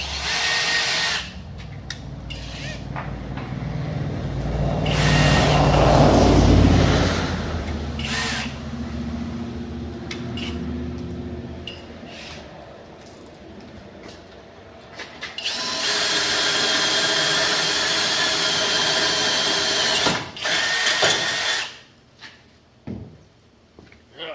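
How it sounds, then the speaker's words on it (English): Power drill boring holes for a Badlands 12k trailer winch mount, heard as several loud, close drilling bursts with short pauses and tool handling between them, no talk. "Now we got all the holes drilled"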